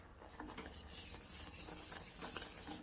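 A milk cake mixture is stirred together with powdered sugar, giving soft, steady scraping and rubbing of a utensil against a pot or bowl, close and fairly quiet, with no voices.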